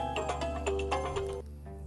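A mobile phone rings with a short melodic tone, a few bright repeating notes over a low hum before it cuts off.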